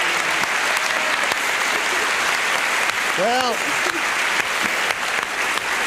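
A TV game show studio audience gives sustained applause from start to finish, with a voice talking over it.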